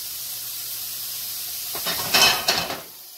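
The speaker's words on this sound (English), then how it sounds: "I'm going to heat up the pancetta" Pancetta heating in a pan, a faint hiss at first, then a louder sizzle of fat with a few brief clinks of cookware partway through.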